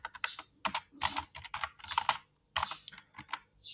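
Fast typing on a computer keyboard, close and fairly quiet, in uneven bursts of crisp key clicks with one short pause midway and no talking.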